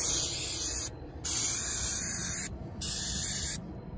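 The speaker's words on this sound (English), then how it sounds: "you do want to spray it and wipe all your fingerprints off" Cleaner is sprayed onto an airplane surface in close, hissing sprays in three long bursts with short pauses between them, with no talking.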